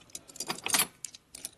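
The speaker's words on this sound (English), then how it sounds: "Here's some keys. One big one." Keys jangling as they are picked out from a pile of parts during a 1977 Harley-Davidson Sportster Ironhead 1000cc motor rebuild, a few bright metallic jingles in short bursts, close and alone.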